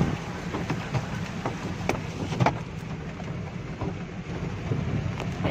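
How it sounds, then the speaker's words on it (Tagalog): Steady heavy rain pouring with a dense hiss and scattered sharper drops, continuous and close throughout. "grabing lakas ng ulan guys oh"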